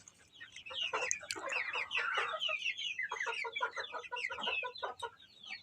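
Hens in a coop cluck and squawk in quick, overlapping bursts, lively and close, with no talking.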